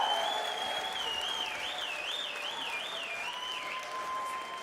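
A crowd applauds and cheers at a Red Bull Home Ground esports semi-final and final event, a steady wash of clapping heard faintly at a distance under a warbling tone and backing music.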